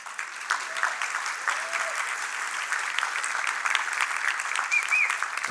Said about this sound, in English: Can we get some applause for Fatima?